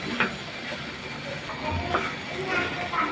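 Okra stirred as it fries in a pan in a small home kitchen, a continuous sizzle with scraping stir noises and a few louder clatters, under a speaking voice.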